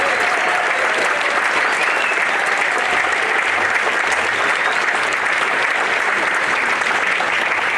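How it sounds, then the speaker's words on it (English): A large crowd under a tent at a car show event in Modesto gives a dense, loud, sustained round of applause, unbroken and even from start to finish. "give Bart Bartoni a huge round of applause right now"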